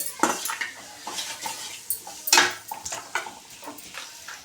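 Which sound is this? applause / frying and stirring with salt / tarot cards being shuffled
frying and stirring with salt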